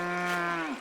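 A single sheep in the video game Pentiment lets out a clear, close bleat that holds steady before trailing off and dipping in pitch at the end.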